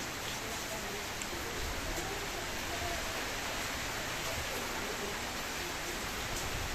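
Continuous heavy rain falls during bad weather with flooding and wind, a dense steady hiss that never lets up, with a voice faintly present beneath it.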